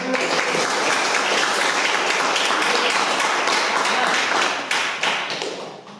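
Students clapping in a madrasah classroom, a loud sustained round of applause that holds steady for several seconds before tailing off.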